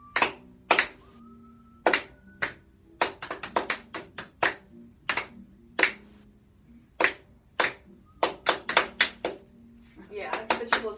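Hands clap out rhythm exercises in a music lesson, close and sharp, in clustered groups of quick claps separated by short pauses, with a voice speaking briefly between the patterns.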